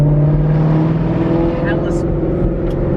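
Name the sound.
Ford Mustang Foxbody car spinning its tires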